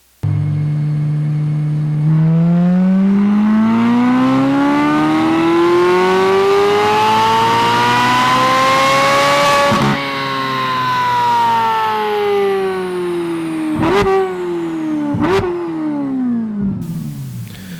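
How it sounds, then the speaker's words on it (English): A Corvette C8 Z06 with a Paragon Performance exhaust revs up through a long, rising high-pitched wail, eases off, then blips sharply twice, loud and close with no talk. "Let's listen to the Paragon Performance Exhaust System."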